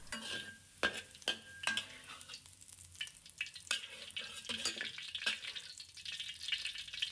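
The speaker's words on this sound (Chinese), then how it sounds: "当五花肉在锅中翻炒至表面泛起诱人的金黄色，油脂充分渗出" Pork belly pieces stir-frying in a wok as the fat renders, with a continuous sizzle broken by repeated scraping and tossing strokes of a spatula, close and fairly quiet, with no talking.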